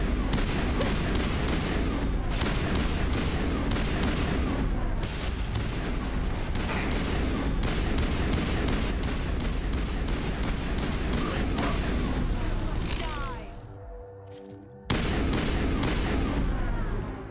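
Near-constant gunfire in the sci-fi shooter Mass Effect: a dense, loud stream of rapid shots for most of the span, briefly dropping away before a final burst.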